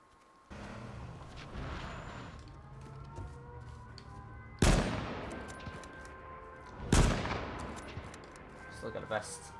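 Gunfire in the video game H1Z1 cracks out as two loud sniper shots several seconds apart, each followed by a decaying echo, with a faint lighter burst near the end and occasional talking in between.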